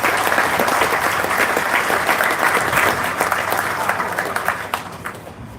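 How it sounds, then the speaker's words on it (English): An audience at a certificate ceremony for a restored mural gives a round of applause, dense and steady clapping that slowly fades near the end, with no talking over it. "Let's hear one more round of applause for them."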